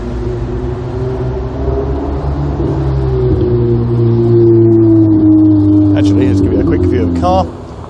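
Car engine revving and passing around Berkeley Square in Mayfair, a loud, close, sustained roar that climbs and shifts pitch, with street noise and talk around it before it cuts off near the end.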